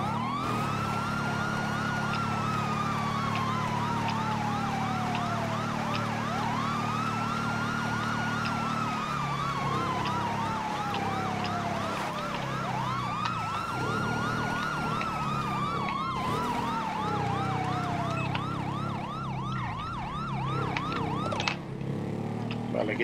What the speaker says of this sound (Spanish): Quitamos ya las sirenas porque no nos hacen falta.